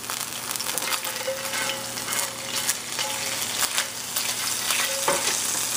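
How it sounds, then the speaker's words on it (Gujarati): Chopped ginger and spring onion fry in hot oil for Singaporean chicken, giving a steady close sizzle with scattered scrapes and clinks of stirring against the pan, and no voices over it. "તેલ ફાઇન ગરમ થાય છે એની અંદર નાખી દઈશું આપણું આદું અને સ્પ્રિંગ અનિયન"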